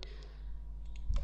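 A few computer mouse clicks, faint ones scattered over a low steady hum and a sharper, louder click at the end, close and dry, with no talking.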